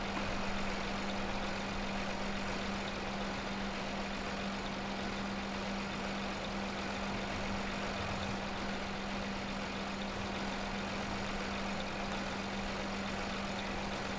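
A vintage tractor engine idles and runs steadily in Farming Simulator, a loud, constant low drone with a steady hum and no breaks, heard alone without talk for the full stretch.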